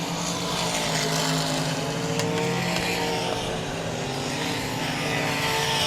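Race cars roar around the South Texas Speedway oval, a loud, continuous blend of engines holding steady pitch with layered harmonics as the field passes close by.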